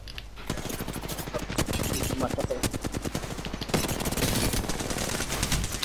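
Rapid, sustained automatic gunfire fills a ranked squad match of Apex Legends on PS4, loud and near, crackling almost without pause and swelling harder toward the end.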